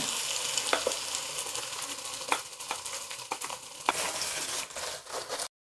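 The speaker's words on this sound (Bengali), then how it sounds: "এখন এখানে টক দই এবং পেঁয়াজের বেরেস্তার যে মিশ্রণটা করে রেখেছিলাম এটা দিয়ে দিচ্ছি।" Yogurt and fried onion mixture hits a pan of sizzling spices in an eggplant curry, giving a steady close frying hiss with scattered stirring clicks and scrapes throughout, then a brief cutoff at the end.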